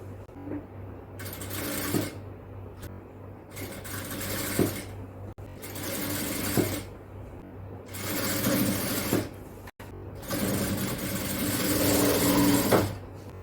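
A sewing machine stitches a cross piece onto a garment armhole in several bursts of rapid mechanical whirring, close and steady, separated by short pauses and small clicks, with no talking.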